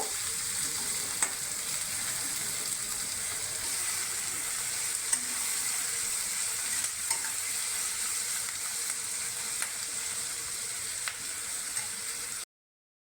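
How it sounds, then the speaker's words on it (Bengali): Chopped onions keep frying in a pan for Bengali katla fish curry, giving a constant, close, crackling sizzle with occasional stirring clicks, running alone without talk until it cuts off near the end. "পেঁয়াজটা একটু ভাজা ভাজা করে নেব।"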